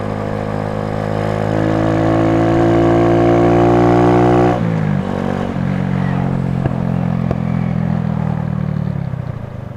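A Razkull motorcycle riding in traffic, its engine droning steadily with rising then falling pitch, shifting down partway through before easing off near the end; loud and close throughout.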